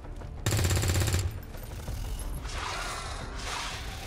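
Rapid automatic gunfire from soldiers shooting at a Viper in XCOM 2, a loud sustained burst followed by a softer rattling, mechanical wash of game effects.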